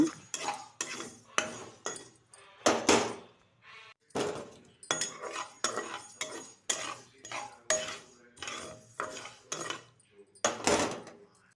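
Roasted fenugreek seeds being stirred in a pan, giving a steady run of scraping, rattling clinks from a spoon against metal, repeated in rhythmic strokes, close and fairly loud with no talk.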